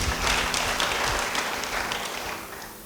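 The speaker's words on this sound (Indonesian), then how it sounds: "Yang percaya beri tepuk tangan bagi dia." Applause from a church congregation during a sermon, a dense steady wash of clapping that fills the hall and holds at a fairly even level before easing slightly toward the end.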